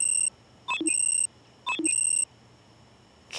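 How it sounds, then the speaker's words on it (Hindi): An alarm clock beeps in two repeated electronic bursts, each a sustained high tone broken by short lower blips, loud and close in a quiet room. "कितने अलार्म लगाए हैं इसने सुबह उठ के क्लास आने के लिए।"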